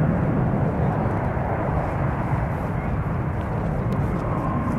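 A fixed-wing airplane at San Francisco International Airport gives a steady, loud, broadband engine roar that holds evenly throughout without voices.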